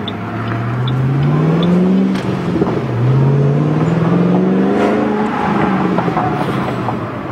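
A 435-horsepower Ford Mustang V8 drones and climbs through two long accelerations, rumbling loudly with wind noise from open windows and a brief dip between pulls.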